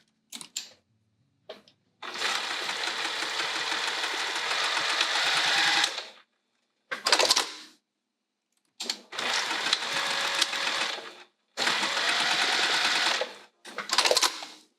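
A sewing machine stitches the corner seams of a fabric bag in close, loud whirring runs of several seconds each, broken by short silences and brief bursts as the fabric is repositioned.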